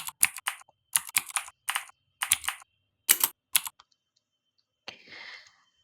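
Typing on a computer keyboard in several quick bursts of close, crisp key clicks separated by short pauses, ending with a softer rustling tap; no voices.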